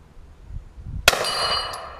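A .40 caliber Hi Point carbine bullet strikes a metal target, a single sharp bright clang that rings on briefly after a soft thump, heard at moderate distance with no talk over it.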